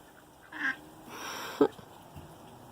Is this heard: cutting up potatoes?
no